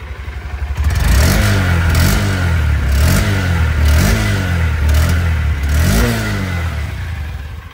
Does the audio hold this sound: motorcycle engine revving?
yes